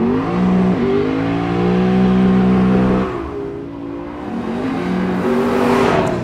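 A Lexus GS F's 5-litre V8 revs hard under acceleration, its loud rising engine note climbing through the gears, dipping briefly around the midpoint, then building again to a strained high pitch.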